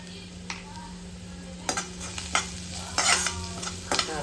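Fish stir-fries in a pan with turmeric, red chili powder, onion-garlic masala and salt: a continuous hiss of frying under a run of scraping stirs that grows busier toward the end, close by, with no talking.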